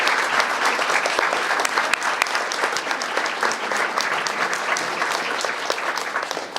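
Sustained applause from a large audience at a military families event, steady and enthusiastic clapping throughout with no break.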